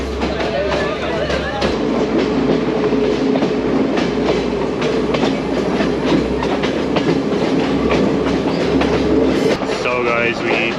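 A scenic train in Sri Lanka, on the line toward Ella, rumbles steadily on the rails with continuous clattering wheel noise and a low drone, and faint voices are heard underneath.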